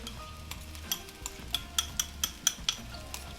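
Sauce poured into a hot pan of Hong Kong–style beef chow mein, giving a low sizzle under a run of sharp metallic clinks and scrapes from stirring, close and fairly quiet.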